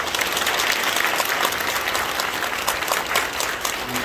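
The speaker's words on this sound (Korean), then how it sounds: "큰 박수와 함께 축복해 주시기 바랍니다" A church congregation applauds during an elder ordination ceremony at a church's 45th anniversary service, a sustained, dense round of clapping filling the hall evenly from start to finish.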